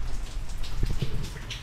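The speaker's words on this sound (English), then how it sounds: "it's raining pretty hard here in Miami" Heavy rain pouring down in Miami, a steady close wash of drops pattering on surfaces with no voices, loudest in the middle of the stretch.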